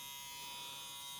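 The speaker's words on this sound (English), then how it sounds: "Clipper and overcomb with a long guard just so you're super safe on how much you're taking off." An electric hair clipper fitted with a long guard buzzes steadily and close up as it cuts men's hair over a comb, a constant bright hum with no pauses and no talking.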